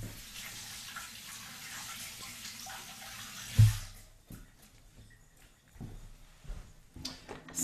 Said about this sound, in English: I just need to rinse my hands real quick.